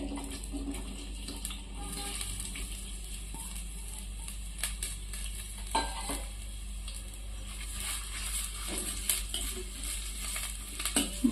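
Onions frying in hot oil for chicken biryani hiss steadily while a spoon scrapes and clinks against the pot in irregular strokes, fairly close.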